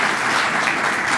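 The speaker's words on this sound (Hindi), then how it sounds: "क्वायर के लिए तालियां बजाएं" A church congregation applauds the choir during Sunday worship, a loud, even roar of many hands clapping together, sustained throughout with no voices over it.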